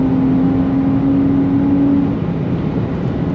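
A 2023 Nissan Z Performance with its twin-turbo V6 drives hard through a long turn, a steady loud engine drone with a sustained tone that fades after two seconds into broadband road and engine roar.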